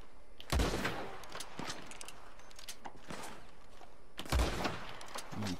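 Gunfire in Red Dead Online PvP: two loud close shots bursting out about four seconds apart over a steady bed of game ambience, with faint footsteps and other soft shuffling between them.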